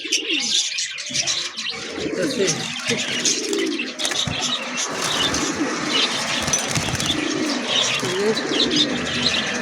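A lively flock of pigeons coos and chirps nonstop, with repeated low throaty rolls over a busy layer of sharper chirps, close and fairly loud.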